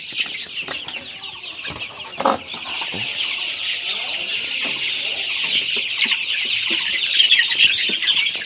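Many chickens in a poultry shed cluck and chatter in a dense, continuous chorus, with occasional rustles and wing flaps nearby.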